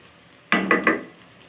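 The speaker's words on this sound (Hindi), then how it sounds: "अब हमने फ्राई पैन में प्याज ऐड कर दिया है।" Onions frying in a pan with whole garam masala, three quick loud bursts of sizzling as the mixture is stirred or tossed, close and alone before fading back to quiet.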